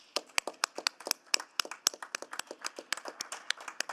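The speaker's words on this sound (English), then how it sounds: "All right, a round of applause for these folks." A small group applauds at a city council meeting, quick uneven handclaps close and crisp, continuing for several seconds with no talking.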